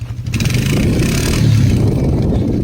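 A four-wheeler engine roars loudly and close while winching on a frozen off-grid property, holding a steady, strained revving note with clattering mechanical noise throughout.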